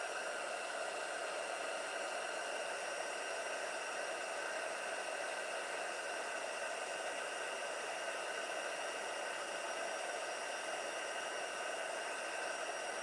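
A crafting heat tool blows steadily to melt embossing powder, a constant, even whooshing hiss that carries on alone with no pauses.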